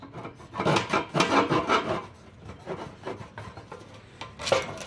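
A Remington folding pocket saw with aggressive teeth rasps through a dead, already-cut wood branch in bursts of rough back-and-forth strokes, close and fairly loud, with pauses between runs.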